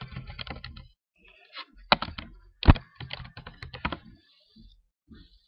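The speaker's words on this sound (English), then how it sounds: "just type Google Chrome" Keys tapped on a computer keyboard in short bursts of clicks separated by pauses, with a few heavier thunking strokes, heard close and with no voice.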